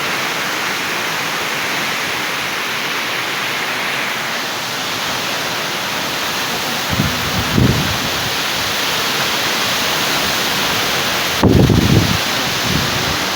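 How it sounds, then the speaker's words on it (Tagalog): Strong typhoon Uwan winds and rain roar as a steady, dense wash of noise, with a couple of brief low thumps from gusts or debris partway through. "This is the first time we experience such strong typhoon."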